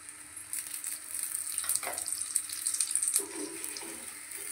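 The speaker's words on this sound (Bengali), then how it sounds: "আমার পরোটাটা এক পিঠ ভাজা হয়েছে, আর এক পিঠ পরোটা ভাজা হচ্ছে।" An aloo paratha fries in oil on a pan, a steady hissing sizzle with a couple of louder bursts and spatters as it cooks close by, with no talk.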